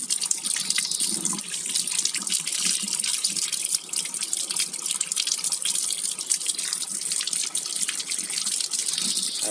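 Tap water gushes in a steady, continuous stream while freshly picked apricots are washed under it, close and fairly loud with no talking.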